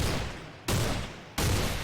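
Game gunfire from Cataclysm DDA comes in dense, noisy bursts, three abrupt loud volleys starting one after another with sharp onsets, close and alone.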